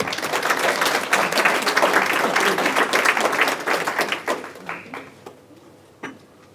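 Warm audience applause at the Nurses Memorial Centre's ANZAC Day commemorative service welcomes a speaker to the podium, a dense burst of clapping that thins out and trails off into scattered claps.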